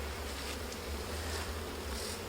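A dense swarm of bees humming inside a beehive during a comb and wax replacement, a loud, continuous buzzing drone that fills the whole moment with no voices.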